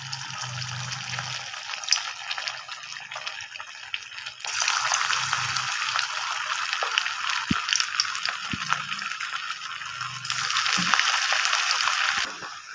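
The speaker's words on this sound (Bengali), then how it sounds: "এবার আমি একে একে সব পকোড়াগুলো দিয়ে দেবো, দিয়ে আমি ভেজে নেবো।" Cabbage pakoras are dropped one by one into hot oil and fry with a bright, fizzing sizzle that swells in two long surges, broken by occasional soft thumps and clatters nearby, with no talking.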